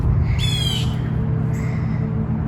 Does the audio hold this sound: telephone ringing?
no